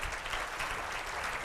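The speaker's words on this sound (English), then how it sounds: "How about a round of applause for Tim?" Audience applause for Tim at an insurance company event for educators, a dense, even burst of clapping from a room full of people.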